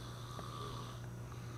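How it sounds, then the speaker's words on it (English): A person snoring, picked up by a dedicated snore microphone, a faint, steady low drone under constant background hum with no voices. "let's check back in with the snore mic"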